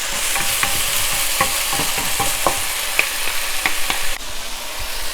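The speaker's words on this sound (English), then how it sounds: "Mix them well so that the eggplant has a chance to be a part of the party" Eggplant is stirred in a hot pan for Sichuan fish fragrant eggplant with pork, a loud, continuous sizzle broken by repeated clicks and scrapes of the utensil against the pan.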